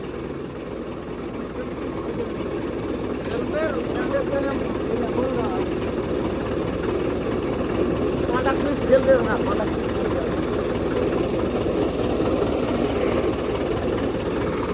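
A Mahindra tractor engine runs steadily at idle, a continuous low mechanical rumble throughout with people talking over it.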